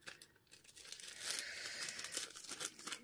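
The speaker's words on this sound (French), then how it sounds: "je vais venir déchirer ceci et le coller dessus" Paper is torn slowly by hand for a collage, a close, soft ripping that stretches steadily over a few seconds with a light crinkle as it finishes.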